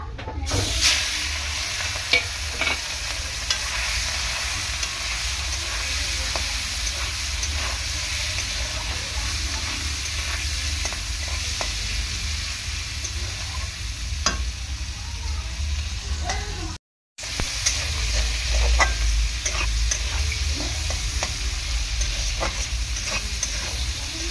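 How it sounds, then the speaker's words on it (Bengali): Shrimp fry in a wok with a steady, dense sizzle and crackle that runs for the whole stretch, broken only by one brief silent gap, close and fairly loud. "আমি এখন চিংড়ি মাছটা ভেজে নেব।"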